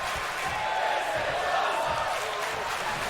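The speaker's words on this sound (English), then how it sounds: "You're hoping for the This Is Awesome chance." Arena crowd in the WWE 2K22 wrestling video game roaring and chanting steadily after a superplex from the top rope, a dense, continuous wash of many voices at constant loudness with no single voice standing out.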